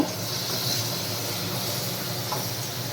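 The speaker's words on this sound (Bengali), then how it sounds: "এই দেখো এরপরে যাচ্ছে কড়াইয়ের ভিতরে চলে গেল পেঁয়াজ" Sliced onions hit hot oil in a wok and hiss in a loud, even, continuous sizzle that barely changes for three seconds, with no voices.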